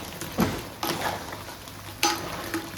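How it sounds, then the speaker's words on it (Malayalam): Crab curry stirred in a frying pan after tempering, a spoon scraping and clacking against the pan in a few distinct strokes over a low, steady sizzle, with no voices. "നല്ലോണം നട്ട് ഇളക്കി കൊടുക്കുക"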